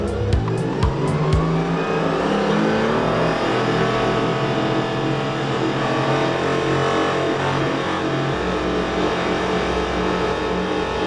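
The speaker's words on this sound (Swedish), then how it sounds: "Aggressivare luftintag, rejälare luftboxar och inget partikelfilter samt 100 cells racekatalysator gör dock att motorn sjunger riktigt vackert." A Porsche 718 Cayman GT4 on a race track roars loudly and continuously at high revs, with engine pitch shifting through gear changes and hints of tire squeal, close and alone.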